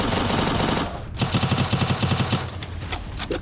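Rapid gunfire bursts and headshots from Free Fire, the mobile battle royale game, in a ranked Grandmaster match, loud and close, with a short gap before a second run of shots.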